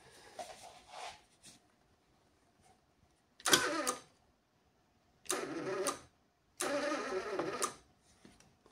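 A Parkside PMSG 200 welder torch fired in pulsed mode crackles in short, loud bursts of about one second each, separated by near silence.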